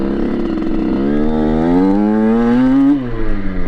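A Derbi Senda motorcycle ridden off-road on a trail, its engine revving steadily with the pitch climbing for about two seconds, then dropping sharply. The engine note is loud and close, with no talk.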